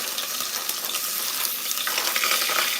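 Onions hitting a hot pan on a home stove give a loud, steady sizzle and crackle that keeps going without a break, with stirring mixed in and no talking.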